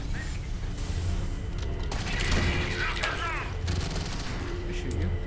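Gunfire in the sci-fi shooter Alien Swarm, dense automatic fire and mechanical clatter running through a busy game mix, fairly loud and continuous, with people talking over it.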